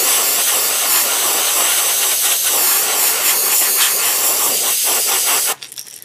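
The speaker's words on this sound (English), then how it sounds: "I'm spraying at about 25 PSI on all the airbrushes." Airbrush spraying sand-colored paint at about 25 PSI onto a crawfish lure through a homemade stencil, a loud continuous close hiss that cuts off near the end.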